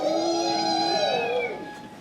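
A voice imitates car brakes screeching as a car stops quickly, producing a single high, sustained whine that bends and fades over about two seconds, close and fairly loud with no talk.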